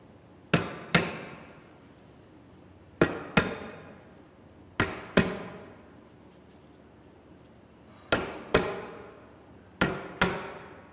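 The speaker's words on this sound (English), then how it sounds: "Any kind of stapler works for setting these pieces of sill seal down." Stapler fastening sill seal strips onto a mud sill at a building site, sharp close snaps coming mostly in quick pairs spaced a few seconds apart, with faint rustling between shots.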